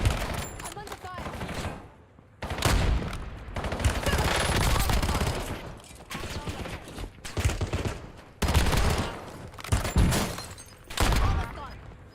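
Heavy bursts of automatic gunfire in the video game Black Ops Royale, loud and close, come in repeated volleys separated by brief gaps, with a voice speaking between them.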